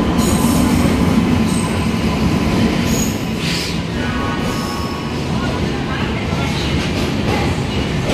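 A train pulls into a crowded railway platform during travel to the 2025 Maha Kumbh, a loud steady rumble of wheels and carriages with squealing metal, continuous throughout and close by.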